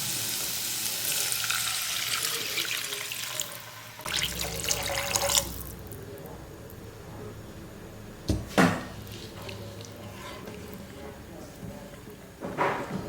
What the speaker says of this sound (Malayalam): 1/2 ലിറ്റർ വെള്ളവും കൂടെ ഇതിലേക്ക് ചേർത്ത് കൊടുക്കുക.